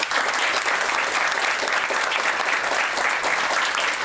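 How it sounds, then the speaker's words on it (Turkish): Sustained audience applause at a stand-up comedy show, dense and even throughout, with many hands clapping at a steady loudness. "Bu alkış kendinize gelsin."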